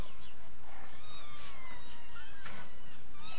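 Cat meowing outdoors, a few faint, high cries spread across a quiet stretch with soft background hiss and no talk.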